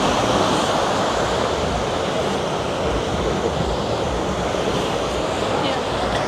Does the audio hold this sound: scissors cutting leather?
no